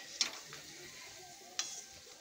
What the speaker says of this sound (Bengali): এই পাঁপড়টা ভাজি, দেখো ছোটো ছোটো পাঁপড়।